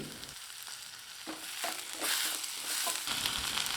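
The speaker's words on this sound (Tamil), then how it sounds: "நல்லா வெங்காயம் பூண்டு வதங்கி வரட்டுங்க." Onion, garlic, dried red chillies, tomato and tamarind sautéing in a pan for urad dal chutney, a steady close sizzle with intermittent scraping stirs that grows louder toward the end.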